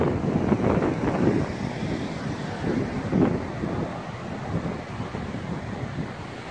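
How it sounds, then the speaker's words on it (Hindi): Fresh wind blows steadily across a mountain lake at Brainard Lake, Colorado, a broad rushing wash that swells in gusts around the first and third seconds, heavy on the microphone with no speech. "बहुत ही ताज़ा हवा चल रही है"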